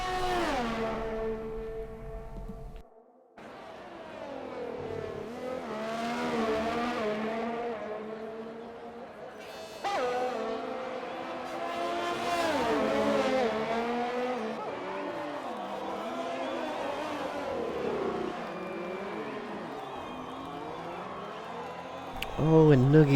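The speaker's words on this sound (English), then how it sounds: "There's a lot of cars out on the track right now for the opening" Formula race cars lap the Canadian Grand Prix circuit during opening qualifying in a racing video game. High engine whines rise and fall through the gears as several cars pass, sustained throughout with short gaps.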